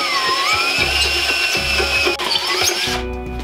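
A power drill bores into a stainless steel dog bowl at low speed, a loud continuous whine with shifting pitch and grinding chatter that stops abruptly near the end, leaving a brief lower hum.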